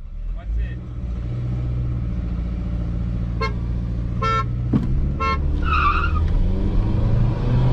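A car horn honks in several short bursts beside a Honda Civic Touring 1.5 turbo, over the steady drone of the running engine, with people talking close by.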